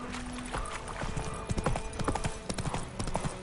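Horse hooves clip-clop steadily in The Witcher 3 as a mount sets off at a trot, the rhythmic thuds loud and close over soft game ambience, with a brief whinny-like tone early on.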